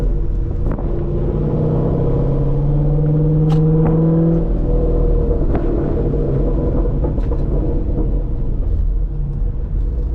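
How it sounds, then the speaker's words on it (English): Continuous low engine rumble heard from inside a C6 Corvette Grand Sport while driving, with steady road noise and a few swells of acceleration, occasional light clicks over the drone. "I hope the camera's picking up the sound of the car."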